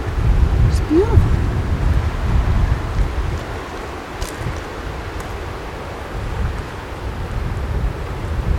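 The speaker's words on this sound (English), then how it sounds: "The wind is nice and breezy and it's kind of keeping us cool because it is a hot day." A breeze on a hot day in western Newfoundland buffets the microphone outdoors, with a low, rumbling roar that gusts stronger at first and then settles into a steadier wash. A short vocal sound comes early on.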